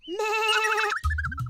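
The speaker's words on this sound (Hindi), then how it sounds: "अपनी भेड़ें संभालो श्रीधाम।" A cartoon sheep lets out one long, wavering bleat up close, loud and alone, then a brief lower bleating sound follows.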